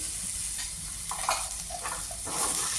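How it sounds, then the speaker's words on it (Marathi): Green chili, ginger and garlic sautéing in a pan, a close, steady sizzle with a few stirring scrapes and clinks and no voices. "थोडंसं परतून घेऊ."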